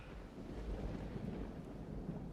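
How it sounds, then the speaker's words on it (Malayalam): Heavy rain with thunder sounds as a faint, low, rolling rumble under a soft wash of rain, steady and distant across the short span, with no talking. "എന്നാ മഴയാണ്!"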